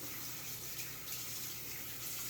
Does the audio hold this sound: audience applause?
no